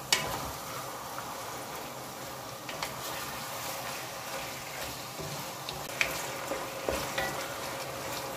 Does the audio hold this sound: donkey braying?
no